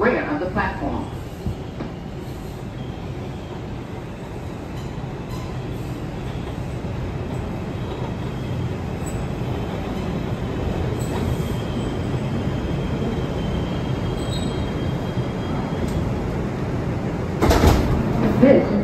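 Interior of an R142 subway car on a Manhattan-bound 2 train in Brooklyn, with a loud, steady rumble of wheels and motors throughout and a brief sharper clatter near the end, under a spoken announcement.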